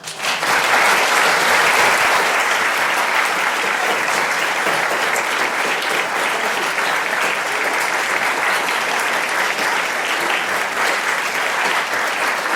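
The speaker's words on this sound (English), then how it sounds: "Another round of applause, please." An audience at a talk on guitar music applauds continuously and loudly, a dense, even wash of many hands clapping at once that fills the room with no pauses.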